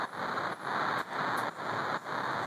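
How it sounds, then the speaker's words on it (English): Simple white-noise layer in an EDM track, shaped by a redux bit-crusher effect: a bright, hissy wash that pulses in even, gated bursts about every half second, with short dips between, and no voices. "This is a simple white noise that we hear almost in every EDM track."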